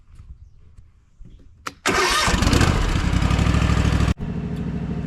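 A Gravely ZT HD-48 zero-turn mower with a Kawasaki FR691V engine cranks briefly, fires up abruptly into a loud, steady running roar, and then dips for a moment before settling into its run, close by, with no talk.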